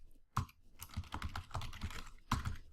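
Fingers type on a computer keyboard in close, irregular bursts of crisp key taps, with two louder strikes near the start and end, likely heavier keys.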